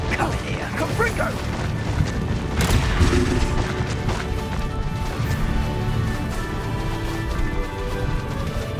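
A Confringo blasting spell goes off in Hogwarts Legacy combat: a sharp, loud burst early on rises out of dense, continuous battle noise with clattering and rumbling effects throughout.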